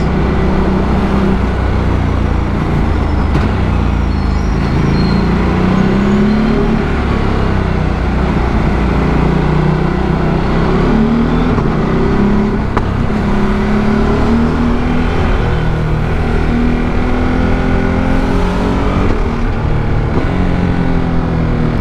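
A Ducati Multistrada V2 motorcycle ridden in city traffic makes a loud, steady engine drone with shifting pitch as it rises and falls through the gears, close up, with wind rush and no talking.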